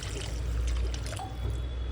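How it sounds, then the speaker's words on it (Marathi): Water poured into a pot of bottle gourd curry on a low-flame stove, a steady close trickle and splash running continuously for about two seconds with no talking. "आता याच्यामध्ये आपण पाणी ओतूया."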